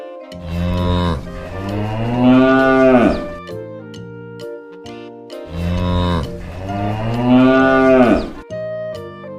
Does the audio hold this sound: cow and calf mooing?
yes